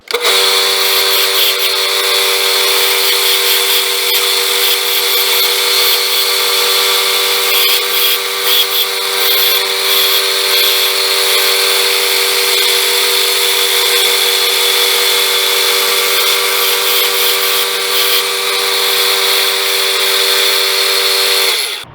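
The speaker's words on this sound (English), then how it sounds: "So we'll just grind that down." A power grinder runs steadily against the bent tip of a paring knife, a loud continuous whine with a constant tone that holds without pause throughout.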